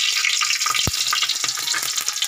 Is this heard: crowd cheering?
no